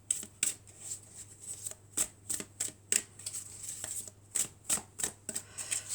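A deck of tarot cards is shuffled and cut by hand, producing a rapid series of crisp riffling flutters and soft slaps at close range, with short pauses between bursts.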